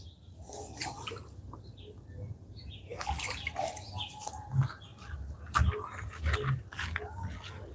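Water splashes steadily onto a rambutan plant in a garden during watering, a soft continuous wash with a few louder drips and spatters and faint outdoor background sounds.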